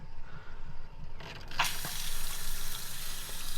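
A motorhome tap is opened, and after a faint hiss the water bursts out at once into a steady, bright rush that keeps running.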